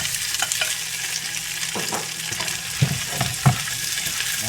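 Tofu fries in a pan with garlic and onion, making a steady sizzle broken by several sharp clacks and scrapes as it is stirred.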